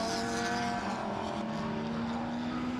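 The leading KTM race car on the circuit at Most during an endurance race passes with a loud, high engine whine whose pitch slides slowly across the brief moment.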